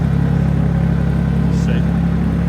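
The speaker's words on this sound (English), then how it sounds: "there's a truck here for sugar beet pellets" A truck delivering sugar beet pellets on a farm yard rumbles steadily with a low engine drone, close and continuous, without any break.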